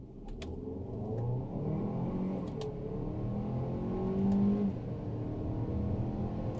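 A 2024-2025 Kia Sorento in sport mode accelerates to highway speed using the paddle shifters: a steady, rising engine drone with road and tire roar inside the cabin, surging louder near the end, with no talking.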